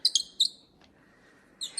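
A pet toy gives short, high squeaks like a little mouse: a quick burst of three chirps, a pause, then two more near the end, close and clear.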